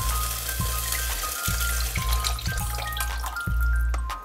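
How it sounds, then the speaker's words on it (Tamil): Tamarind water is poured into a lightly sautéed onion and tomato mixture for Tamil-style onion theeyal, a steady close liquid trickle with soft repeated splashing thumps and no talk. "இப்போ அதிலிருந்து சார் எடுத்து இந்த லேசாக வதங்கின வெங்காயம் தக்காளி கலவையில் ஊற்றுறோம்"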